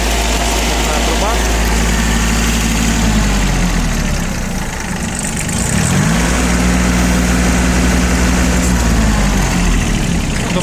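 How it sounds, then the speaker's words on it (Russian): Kubota B1-16 mini tractor engine idling with a steady, loud low drone that drops briefly in pitch and then settles back to its idle tone, close by and continuous. "Думаю, видно и заметно, что работает трактор достаточно хорошо."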